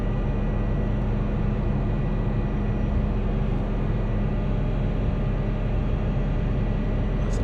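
A helicopter flies over Iguazu Falls in Microsoft Flight Simulator. Its rotor and engine give a constant, even drone that fills the whole stretch without change, with no voices over it.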